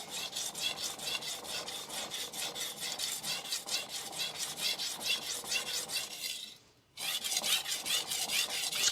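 Steady back-and-forth rasping of a blade being sharpened on a DMD resin bonded diamond plate, quick regular strokes close up, briefly pausing near the end before the scraping resumes.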